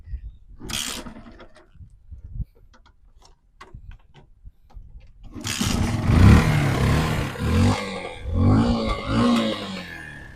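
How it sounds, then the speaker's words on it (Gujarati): Yamaha FZ-S motorcycle kick-started: a few sharp mechanical clicks and kick thuds, then the engine catches at about five seconds and settles into a loud, steady, close idle. "એક જ કિકે સ્ટાર્ટ થઈ છે ગાડી"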